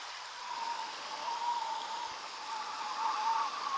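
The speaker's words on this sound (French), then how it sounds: "ok, donc ça, c'est une rivière" Looping river ambience from a tabletop role-playing soundscape app gives a soft, continuous rushing flow of water, steady and even throughout at a low level with no voices.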